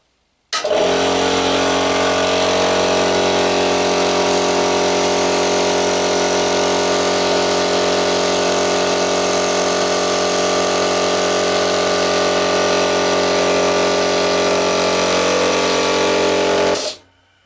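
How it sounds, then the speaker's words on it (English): A 24-liter direct-drive air compressor runs loud and steady at close range, starting abruptly and holding a constant buzzing motor drone for about sixteen seconds before cutting off sharply. "It's an old trusty Driect drive compressor, 24-liter. Let's have a listen."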